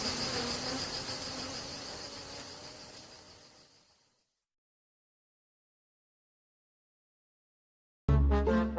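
A swarm of bees buzzes as it leaves the hive, a dense insect drone that fades out over about four seconds into silence before a different tonal sound cuts in at the end.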